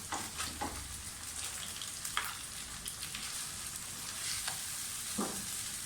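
Tomatoes and green chillies fry in oil for a boneless chicken dish, a soft continuous sizzle with occasional stirring clicks and scrapes, fairly quiet and without voices.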